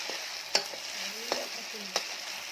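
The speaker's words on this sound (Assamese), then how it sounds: "তাৰপিছত গোটেই মছলাখিনি অলপ সময় ভাজা যাব দি অলপ ভালকৈ ভাজি লৈ লওঁ।" Spice masala of ground cardamom, bay leaf, ginger, garlic and chilli frying for a local chicken curry, a steady soft sizzle broken by three sharp stirring scrapes, close and alone.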